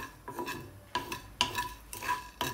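Cumin and curry leaves stirred in a dry pan while roasting: a series of scraping, rasping strokes against metal at a steady pace, close and fairly quiet, with no talk.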